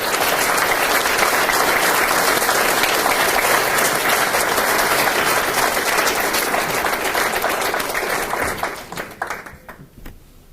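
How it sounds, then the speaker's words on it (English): A graduation audience at a fire academy applauds instructors and students: dense, loud, sustained clapping from a large crowd that holds steady for several seconds before thinning out to scattered claps. "So, round of applause for the instructors and the students."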